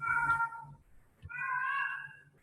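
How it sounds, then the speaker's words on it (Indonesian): A cat meows twice, two drawn-out, nasal cries separated by a short pause, fairly close and loud over a faint background hum during an online meeting. "Waduh, ini giliran saya malah ada kucing."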